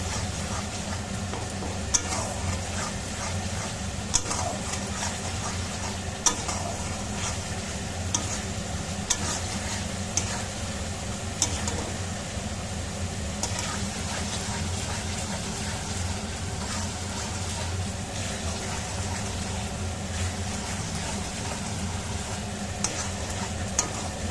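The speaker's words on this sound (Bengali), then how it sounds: "নাড়াচাড়া করবো" Spoon stirring poppy seeds in a hot pan while making dahi katla at home, a steady soft scraping and sizzling with faint clicks, close and continuous throughout with no talk.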